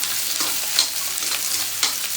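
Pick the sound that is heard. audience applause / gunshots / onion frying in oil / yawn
onion frying in oil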